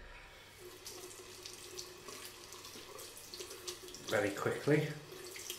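Synthetic shaving brush rinsed under a running tap, a burst of splashing water near the end of a quiet stretch, loudest in two short surges.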